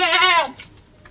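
A pair of goats kept for rearing or meat in Malappuram gives one loud, close, wavering bleat lasting about half a second, followed by quiet background.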